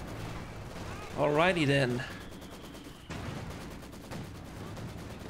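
Artillery reports from ZiS field guns in a Company of Heroes 2 match, a few spaced booms set against ongoing battle ambience, with a voice talking over part of it.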